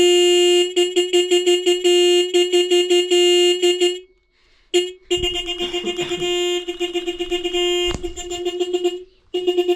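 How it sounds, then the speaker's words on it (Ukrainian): A car horn blares in rapid repeated honks, then pauses and resumes in long steady blasts, loud and close. "Гудок. Гудок,"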